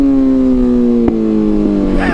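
A quad bike engine running close and loud with a steady droning tone that dips slightly, then rises as it revs toward the end, with a voice speaking over it.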